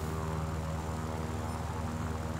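Propeller engine of an SB2C aircraft in a flight video game, a steady droning hum with a harmonic buzz, loud and continuous throughout with no talking.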